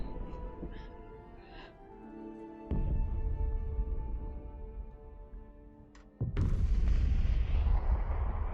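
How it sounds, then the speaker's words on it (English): Cannon fire sound effect: heavy booms land several seconds apart, each followed by a long rumbling decay, with a faint ticking earlier and the last blast loudest. "That sounds like cannon fire."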